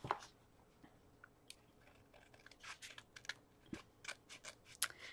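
Scissors snip at packed mail, with faint, close, irregular cuts and scratchy rustles at low level and no talk.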